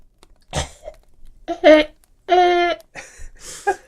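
A few short, breathy bursts sounding like a quiet cough or throat clearing, with brief vocal sounds between them, close to the listener.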